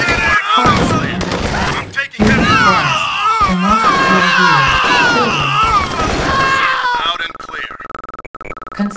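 Rapid gunfire and explosions crackle through a real-time strategy game battle, loud and continuous, layered with synthetic unit voices and radio-style game speech before thinning out near the end.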